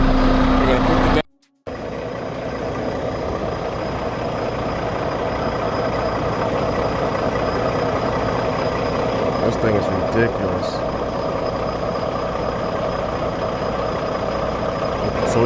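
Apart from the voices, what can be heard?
truck engine running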